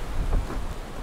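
Steady rain pours at an outdoor shooting range, with gusting wind and a low rumble filling the short stretch as one continuous wash of noise, no voices.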